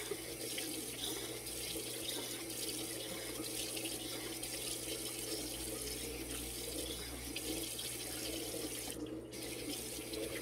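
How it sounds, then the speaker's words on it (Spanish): Warm water runs steadily from a tap into a sink during a face wash, a continuous close splashing hiss that barely changes from start to finish. "Estoy lavando mi rostro con agua tibiecita para abrir los poritos"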